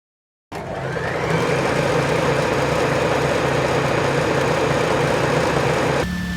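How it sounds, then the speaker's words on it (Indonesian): A Janome ST-24 sewing machine starts after a short silence and runs steadily with a continuous mechanical whir and a low hum, fairly loud and close, and it ends with an abrupt shift in tone. "Nah, suaranya sih tipikal suara mesin jahit pada umumnya ya."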